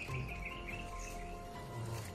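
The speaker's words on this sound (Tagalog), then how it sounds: "Tinig ng uwak." Faint, distant crow calls outdoors, a few short harsh caws in the first second and again near the end over quiet background ambience.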